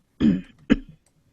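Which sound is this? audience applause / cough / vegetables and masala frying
cough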